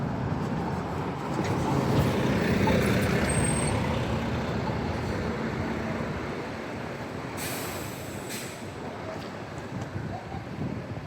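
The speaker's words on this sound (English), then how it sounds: "And one of the new buses." A new city bus rolls by near the Water Street Terminal on the Halifax waterfront, its engine swelling then fading, with short hissing air-brake bursts late in the pass and wind buffeting the microphone.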